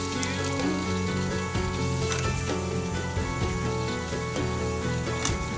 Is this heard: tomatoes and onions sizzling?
yes